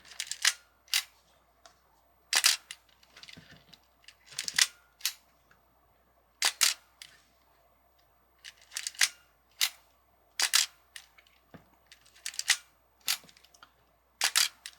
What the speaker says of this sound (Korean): 요 맛으로 이렇게 필름 감는 소리, 셔터 소리